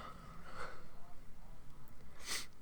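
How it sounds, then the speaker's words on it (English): A person with a cold sniffles a couple of times, short nasal sniffs close up, the second sharper and louder, amid quiet room noise. "Really wish this cold would clear up. Keep sniffling."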